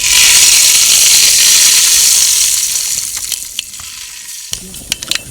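Mustard seeds, turmeric and salt hitting hot oil for a Gujarati tempering give a loud, dense sizzle that eases after a few seconds into sparse, sharp crackles and pops.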